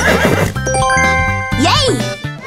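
In a children's animal quiz game, a cartoon horse gives a brief neigh with a rising-and-falling whinny. It sounds close and loud, mixed with a short jingle and a voice speaking.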